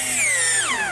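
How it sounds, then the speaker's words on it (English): A power drill pre-drills screw holes in oak, giving a short, loud whine that winds down in pitch near the end. "I'm using screws, being sure to pre-drill some holes"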